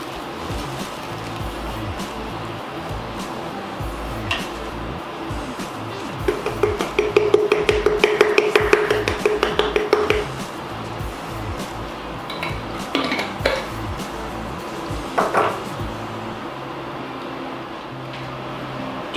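Jarred sauce going into cooked turkey in a pan over low heat and being stirred in, with a burst of close metal-on-pan scraping and clinking in the middle and sparser clinks later.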